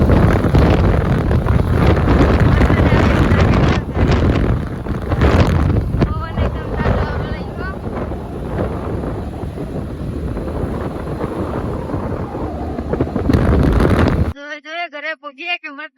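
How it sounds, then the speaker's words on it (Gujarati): Strong wind at Dumas beach in Surat under cloudy, rainy skies, buffeting the microphone in loud continuous rushes. Voices talk over it, and the wind cuts off near the end as a short tonal sound takes over. "પવન"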